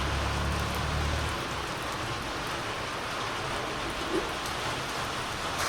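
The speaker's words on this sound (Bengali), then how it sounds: "আজকে সকালে বেরোনোর সময় দেখো বৃষ্টি শুরু হয়ে গেছে" Continuous hiss of steady morning rain falling on surfaces nearby in Dharchula, on the India–Nepal border in the Himalayas, even and unbroken, with a brief low rumble at the start.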